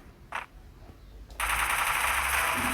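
Rapid automatic gunfire in a video game starts suddenly after a short pause and continues as a dense, loud, sustained burst.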